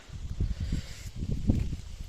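Gusty wind buffeting outdoors in a soybean field, with low rumbling bursts pulsing irregularly against the microphone.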